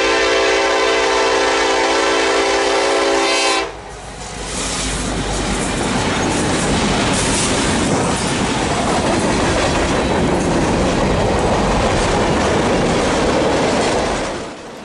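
A freight train horn blares for several seconds at a crossing, then the heavy rumble and rhythmic clatter of rail cars rolling past nearby.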